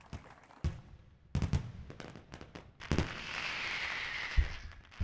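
Fireworks crackle and pop at a level's finish line in the Go Go Franklin video game, sharp bangs arriving in irregular clusters followed by a hissing, fizzing burst, with no speech over them.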